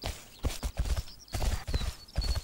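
Horses in the PennyGirl horse video game clop their hooves in repeated bursts, with a high whinny threading above the steady, close hoofbeats.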